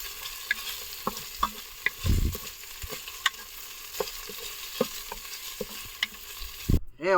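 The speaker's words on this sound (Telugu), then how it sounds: "అవన్నీ వేపుతాడు ఇప్పుడు." Ingredients fry in a pan over a dense, steady sizzle, with light stirring ticks and scrapes popping up through it and no voices.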